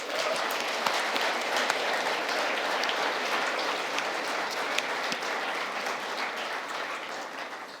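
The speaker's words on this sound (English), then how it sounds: "please stand up so everyone can clap" A large keynote crowd claps continuously for hackathon winners at a tech conference, a broad even wash of applause heard from a middle distance, holding steady before easing slightly at the end.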